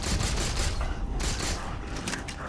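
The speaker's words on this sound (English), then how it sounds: "notice I'm firing through the pipes here" Rapid gunfire from Halo 4 shot through metal pipes, a dense continuous burst of repeated shots with mechanical clatter filling the whole moment, loud and close with no talk over it.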